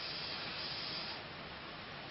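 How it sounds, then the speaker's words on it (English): SMS spray paint misted lightly onto a white helmet, a soft continuous aerosol hiss that holds steady, then eases slightly toward the end, with no talking. "not heavy, but just a really light spray"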